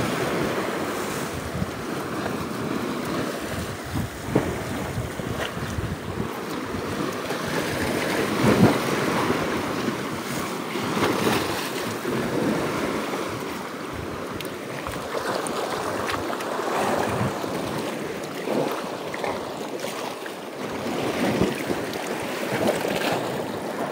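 Steady wind blows across the microphone with surf washing in the background, no voices, a continuous rushing roar.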